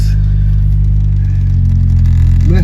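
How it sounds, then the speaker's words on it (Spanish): A 1980s Nissan Sunny engine running loud and close in first gear as the car pulls away, a constant low droning hum with a slight rise in revs toward the end. "Ya, prendimos esta máquina de los 80 para ir a dar una vuelta."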